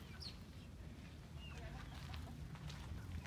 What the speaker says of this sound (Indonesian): Ayam-ayam ya ini.